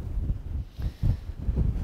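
Cold wind gusts buffet the microphone on the Kitzbüheler Horn mountain at sunset, coming as low rumbling surges that rise and fall every half second or so, fairly loud and with no other sound.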